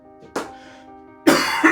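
A man coughs inside a car after a motor show, two harsh coughs separated by a pause, the second loud and close, over a steady tonal hum.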